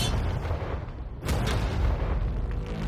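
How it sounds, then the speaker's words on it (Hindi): A tank cannon fires a shot at a pile of money outdoors. A loud, dense blast rumbles throughout, with a sharper burst about midway that is followed by a sustained booming roar. "ये 5 टैंक्स पैसों पर निशाना लगाकर 20 राउंड फायर करने वाले हैं"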